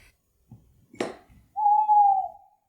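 A single sustained, steady owl hoot rings out clearly after a few soft scattered noises and a brief rustling burst.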